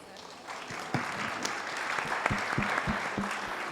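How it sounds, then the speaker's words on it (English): Audience at an aviation talks event applauding Prince Sultan bin Salman: a crowd's clapping that swells gradually, moderately loud, with a few low thumps punctuating it near the end. "So please give him a round of applause."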